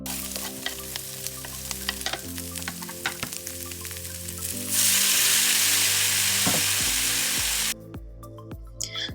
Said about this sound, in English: And then I just add some oil into a pan and just made sure that it was hot enough. Then I just added in the tomatoes and onions.